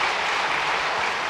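Church congregation applause for children at an award ceremony during a Sunday worship service, a dense, steady wash of clapping filling the whole short moment with no talk.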